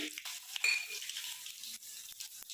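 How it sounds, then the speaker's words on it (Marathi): Curry leaves dropped into a hot cumin and mustard seed tempering for a moong dal and onion dish, giving a steady close crackling sizzle with a few sharp pops near the start, no voices. "जिरे मोहरीला छान असा तडका बसलाय तर त्यामध्ये मी आता हा कढीपत्ता टाकते"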